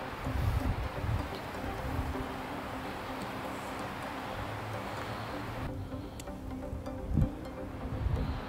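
Wind blows steadily across an exposed outdoor spot near a pond in wood frog breeding season, a broad rushing hiss with gusts that swell and ease, occasional rustling, and no talking.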